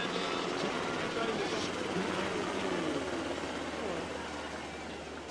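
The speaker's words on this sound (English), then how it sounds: "Helicopter just took off over the press box." Helicopter taking off over the press box at a high school football rivalry game, a loud, continuous rotor and engine roar filling the air nearby and easing slightly toward the end.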